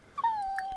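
A Sims 4 dog in a game voices a short whimpering yelp that slides into a thin, sustained whine, close and alone.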